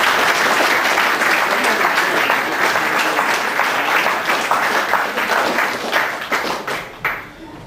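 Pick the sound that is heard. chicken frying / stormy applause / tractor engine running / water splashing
stormy applause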